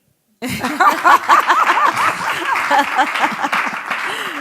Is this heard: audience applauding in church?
yes